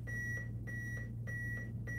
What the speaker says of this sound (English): What's the purpose of the metronome?